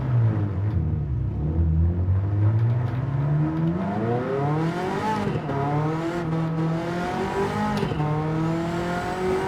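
A Ferrari F40 laps the Nürburgring, its engine loud and continuous as revs climb and fall through a slide, with pitch sweeping up and down and tires scrubbing underneath.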